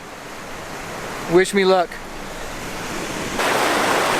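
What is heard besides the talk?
flowing stream water around tripod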